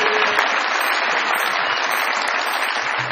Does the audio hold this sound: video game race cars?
no